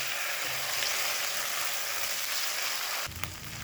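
Ginger-cumin paste fries on a low flame in a pan of oil, a steady bright sizzle running throughout, with a brief stirring scrape and a shift in the crackle near the end.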